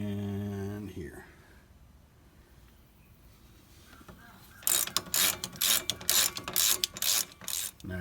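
A hand ratchet works on the caliper bracket bolts of a 1999-or-later GM truck during a wheel hub replacement, giving fast, loud, close clicking bursts in the second half after a quieter stretch with a low hum.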